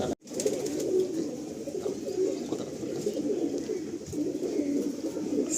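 Pigeons cooing together in a loft, a continuous low murmur of overlapping coos filling the space at close range after a brief initial gap, with no talking.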